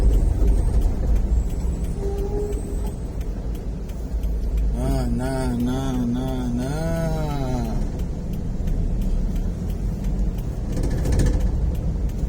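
Congested traffic at a toll road gate on the Cileunyi–Pamulihan toll road, with a continuous low rumble of idling cars and motorbikes, a horn-like tonal blare in the middle and someone speaking briefly.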